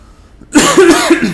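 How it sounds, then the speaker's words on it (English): A single harsh, raspy cough bursts out abruptly after near-silence, followed by a rougher throat-clearing rasp, loud and close. "I'll see whether I'm coughing too much or not"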